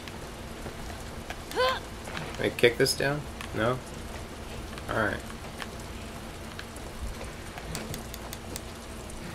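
Steady rain falls outdoors in the video game The Last of Us Part II, a constant even hiss throughout, with a voice briefly talking over it.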